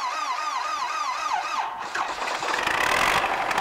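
An MTZ-80 tractor's diesel engine, fitted with replacement injectors, starts up: a whirring starter motor winds up and down, then the engine catches with a rough, loud clatter that settles into a running rumble.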